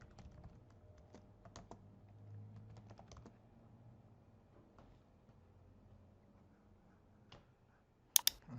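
Computer keyboard typing while entering a name in a Moodle quiz setup, a quiet run of light, irregular key clicks with brief pauses and a sharper burst of clicks near the end.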